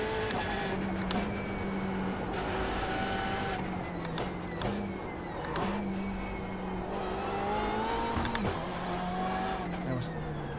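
A BMW M8 V8 race car in iRacing at Summit Point revs hard and continuously, its engine note rising and falling through gear shifts with sharp upshift cuts, a loud, close, sustained roar with no talking.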